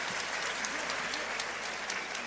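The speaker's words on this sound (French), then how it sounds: "D'ailleurs, il est applaudi, c'est pas pour rien," Audience of fight fans applauding at a kickboxing event in the Palais des Sports de Tours, a steady dense wash of clapping sustained throughout at moderate level.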